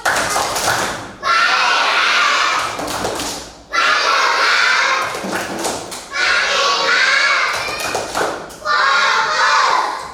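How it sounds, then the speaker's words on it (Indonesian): A group of children perform a rhythmic focus clap during a classroom lesson, loud bursts of clapping and voices repeating in several blocks, separated by short pauses. "Putra, tepuk fokus."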